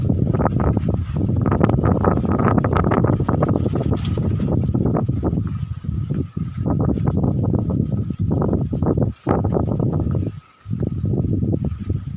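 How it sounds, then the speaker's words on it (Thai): Strong wind gusts buffet the microphone continuously at a national park viewpoint, a loud, rumbling roar with brief lulls, alone without talking. "ช่วงนี้นี่ก็มีลมพัดกันค่อนข้างแรงนะครับ"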